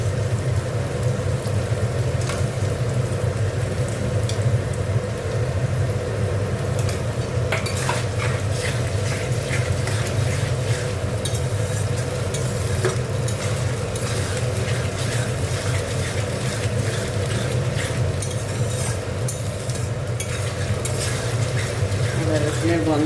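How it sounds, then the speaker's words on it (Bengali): Ginger garlic paste fries in a pan for ghugni, giving a steady, dense sizzle close by. It is stirred with a utensil and scrapes against the pan now and then, with no pause for about twenty seconds. "এখানে আদা রসুন পেস্ট দিয়ে দিচ্ছি।"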